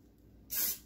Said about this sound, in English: grab your old cooking spray,